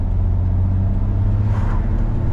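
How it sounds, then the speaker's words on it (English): A BMW E30 accelerates hard through a 0-60 run, the engine's low, steady drone heard from inside the car with a rise in pitch partway through and no talk over it. "We're gonna do a 0-60 in this thing."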